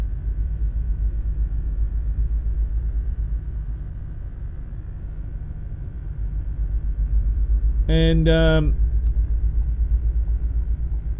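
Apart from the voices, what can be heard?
Scania S730 truck driving in Euro Truck Simulator 2 video game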